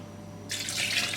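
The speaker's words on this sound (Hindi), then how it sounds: "वो पानी भी मैं इसी में डाल दूंगी," Soaking water poured into apricot and tamarind chutney, a steady close splashing pour that begins partway through and continues to the end, alone without talk.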